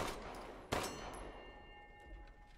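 A single sharp gunshot rings out in the video game Resident Evil Village, crisp and fairly close with a brief metallic ring afterward, set against a quiet ambient background.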